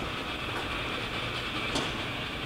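A Hardinge super precision tool room lathe runs in low range, giving a steady continuous mechanical whir and hum at close range with a faint brief tick near the end, and nobody speaks.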